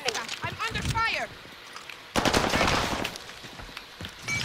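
Gunfire in a first-person shooter video game with submachine guns, bursts of rapid shots rattling close by while players talk over it, then a louder sustained stretch of fire.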